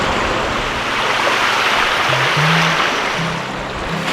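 A large river rushes and churns during a crossing in the Scottish Highlands, a steady broadband roar of flowing water close by with no voices.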